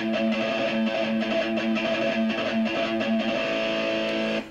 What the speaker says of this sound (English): So let's start with the rhythm guitar track.